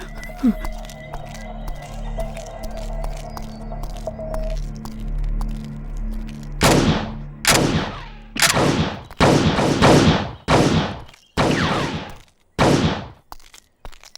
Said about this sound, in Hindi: नीलवानी कैंप, फायरिंग सर।